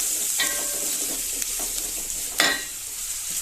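Masala mixture with sambar powder being stirred in a hot pan for fig stir-fry, a faint continuous sizzle with a few brief scraping clicks, close by and without voices.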